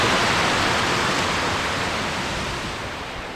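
A rain-fed jungle waterfall roars as a broad, steady wash of rushing water, loud and close at first and easing slightly, with nothing else over it.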